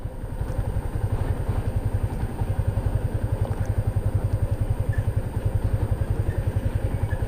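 A motorcycle idling while being parked, its engine ticking over in a steady, rapid, even pulse close by with no talk over it.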